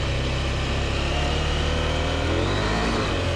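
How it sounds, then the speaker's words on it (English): A 2023 KTM 890 Adventure R motorcycle engine drones loudly and continuously while riding, its pitch climbing gradually as the revs rise, heard up close with rushing wind noise. "I can hear the revs going up, but no slip."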